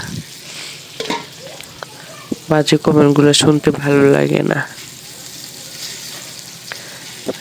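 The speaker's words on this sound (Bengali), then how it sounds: "এদিকে আমার মাছগুলো প্রায় ভাজা হয়ে যাচ্ছে" Fish frying in a pan gives a steady, close sizzle throughout, with a voice talking briefly over it in the middle.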